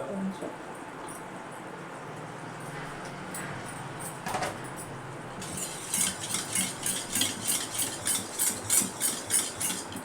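A spoon stirs salt into Godavari-style chicken curry in a pot, first quietly, then as a series of rhythmic scraping clinks against the pot in the second half.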